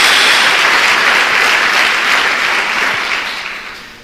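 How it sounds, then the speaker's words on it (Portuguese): A church congregation bursts into loud, dense applause, a continuous wash of many hands clapping together that holds strong and then slowly tapers off toward the end. "Dê uma salva de palmas ao Senhor"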